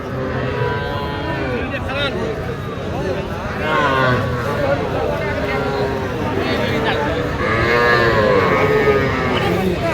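Sahiwal bulls and heifer calves low now and then amid a busy cattle market crowd, with voices and general market babble running continuously over the animal calls.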